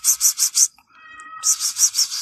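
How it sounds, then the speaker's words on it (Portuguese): A cat meows repeatedly, close and loud, in a quick rhythmic series of four calls, then pauses through a faint thin whine, then gives another run of four or five meows. "Olha o gato ali!"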